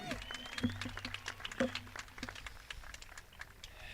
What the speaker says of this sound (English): Another round of applause for our valedictorian, please.